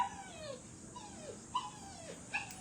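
A dog whimpers before a bath, giving thin, high descending whines and a couple of short yips, close but fairly faint, with no talking.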